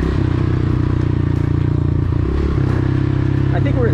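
A dirt bike engine drones steadily while riding in second gear, a close, loud, rhythmic motor buzz with faint clattering, and a rider's voice talks over it.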